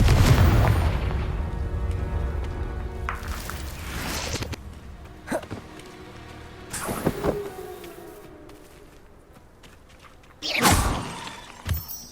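A Confringo blasting spell goes off in Hogwarts Legacy with a heavy booming explosion and shattering debris, followed by several sharper blasts and thuds over low rumbling game ambience.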